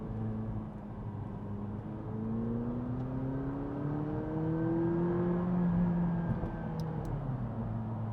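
A 2016 McLaren 570GT engine accelerates after a downshift through the carbon paddle shifters, a rising drone that climbs steadily in pitch, heard from inside the cabin and loud throughout.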